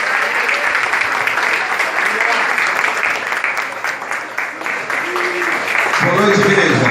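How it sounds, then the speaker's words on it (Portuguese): A church congregation claps in sustained, rhythmic applause for several seconds. Murmured voices and a faint sung or spoken tone come in near the end. "Aplauda o Senhor Jesus para ele."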